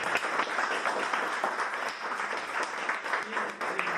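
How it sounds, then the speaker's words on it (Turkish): A dense, steady roar of applause from a sizable crowd at a school robotics coding closing event, many hands clapping at once without letup, fairly close and loud. "Ama önce ne yapalım öğretmenimizi kocaman alkışlayalım"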